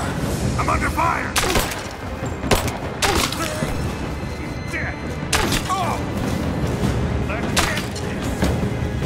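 Repeated gunfire and heavy thumps in a combat video game, with several sharp broadband bursts spread irregularly over a dense, noisy battle background and voices talking throughout.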